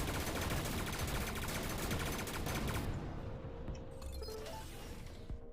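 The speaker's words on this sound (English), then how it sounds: "I guess I'll do it with the Gauss cannon" Gauss cannon in a space combat game firing a dense burst of rapid, crackling shots that fills the first three seconds, then fades into lighter rattling impacts and debris.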